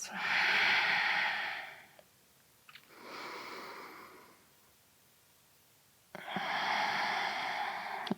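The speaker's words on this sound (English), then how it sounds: "Deep inhales and slow exhales." Slow, deep yoga breaths drawn in and let out through the nose and mouth, three long airy swells with quiet pauses between, close and alone with no talking.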